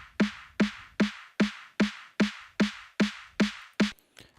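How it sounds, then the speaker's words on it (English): An electronic build-up loop from a music track, repeating ten evenly spaced punchy hits, each a sharp bright attack with a low thump that decays quickly, loud and alone with no voices. "Okay, so the next sound was this build-up loop."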